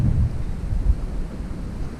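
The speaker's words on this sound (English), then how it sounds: "It's just way too windy right now" Strong wind buffets the microphone beside a lake, a steady low rumbling roar with gusty surges throughout, no voices present.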